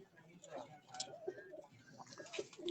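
Domestic crossbred pigeons, including Teddy pigeons, coo on a rooftop loft, a soft repeated cooing running under steady conversation between several voices.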